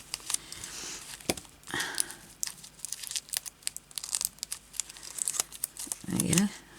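Crewel embroidery threads tearing out of fabric, with sharp crinkly rips and short snapping pulls scattered across the clip, close and fairly quiet, with a voice speaking briefly toward the end.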